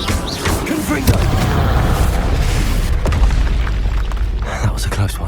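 Confringo explosion spell in Hogwarts Legacy: a loud, booming blast followed by sustained rumbling and crackling impacts, with scattered sharp pops through the clip.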